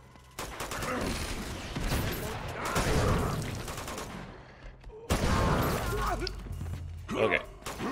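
Gunfire in the video game Uncharted 2: dense bursts of automatic fire and impacts, loud and close, broken by a brief pause before another volley, with a voice talking over parts of it.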